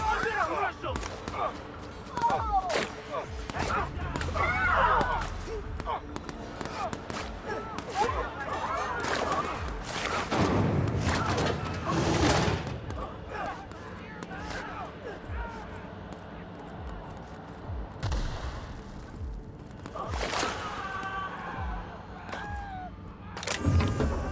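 Gunfire crackles through combat in The Outer Worlds, with sharp repeated shots and impacts scattered irregularly among crashes and clatter, and voices calling out between bursts.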